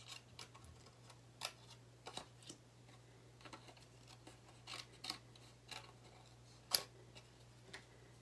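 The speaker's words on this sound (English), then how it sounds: "let's cut these out" Scissors snip through birdhouse pieces in short, irregular cuts over a low steady hum, faint and close, with one sharper snip standing out near the end.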